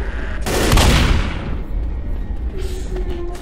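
Gunfire in the video game Left 4 Dead: a loud, close burst of rapid shots lasting about a second, fading into a rumbling tail with a faint tone and some background noise afterward.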